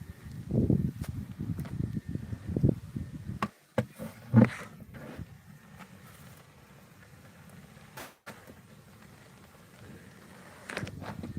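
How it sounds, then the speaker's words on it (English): Rain patters steadily outdoors on a planted corn patch, mixed with nearby thuds, rustling and a few sharp knocks. "Here comes rain."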